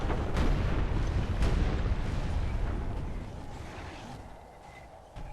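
Guns and cannons fire in the Medieval 2 Call of Warhammer game, a loud rumbling barrage of booming blasts that gradually fades, then a fresh thump at the end.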